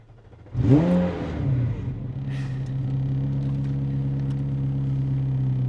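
A rear-mounted supercar engine cranks and fires with a loud rising rev, then settles into a steady, throaty idle that drones on alone inside the cabin.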